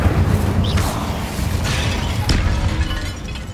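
An Incendio fire spell cast in Hogwarts Legacy bursts out in a loud, crackling whoosh, with sharp blasts at about the middle and near the end over a dense, continuous rumble of battle noise.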